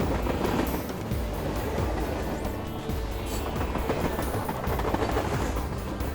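Steady rolling rumble of a microscale LEGO model train running on a chain track, with a continuous clattering rattle and no voices.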